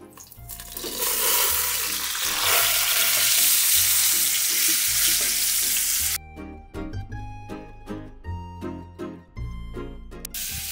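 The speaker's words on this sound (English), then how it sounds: "You want to get that good sear, getting that good fond in the bottom of your pot" A stuffed boneless pork loin roast sears fat side down in a hot pan, giving a loud, steady sizzle that drops away after several seconds into clanking and scraping of utensils in the pan.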